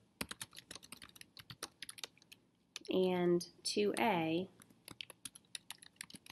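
Close keys clatter on a computer keyboard in a rapid, irregular run of clicks that continues throughout, with a brief spoken phrase in the middle.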